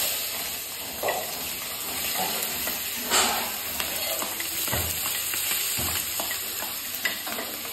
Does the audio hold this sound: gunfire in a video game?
no